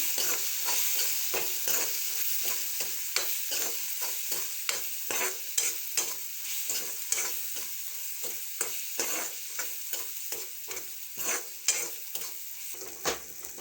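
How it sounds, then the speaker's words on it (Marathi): Red chilli being stirred into prawn chutney frying in a pan, with a steady sizzle under repeated scraping strokes of the spoon, close and moderately loud, with no talking. "लाल मिरची थोडी टाकूया बरं मिक्स करून घेऊया"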